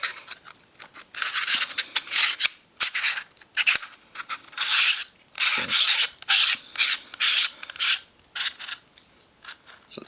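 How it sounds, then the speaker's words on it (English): An SLR Magic variable ND filter of metal construction screwed onto a camera lens, giving repeated short rubbing, scraping twists in uneven bursts, close up with no talking. "So it screws in nicely."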